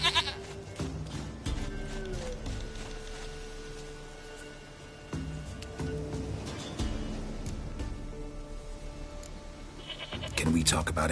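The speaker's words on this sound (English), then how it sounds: "Goat of mine, dearest," A goat in a video game bleats in a few wavering cries amid ambient game sound, with a voice speaking at times.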